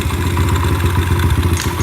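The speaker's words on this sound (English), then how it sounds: "So when I turn it up, that's the idle." A 4-stroke dirt bike or ATV engine idles steadily nearby, a continuous low, even chugging with a slight clattery edge and no voices over it.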